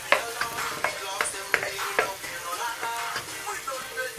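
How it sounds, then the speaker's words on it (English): Onions cooking in a pot for a lamb curry are stirred with a spoon, giving repeated close scraping strokes over a faint sizzle. "And just mix up these onions."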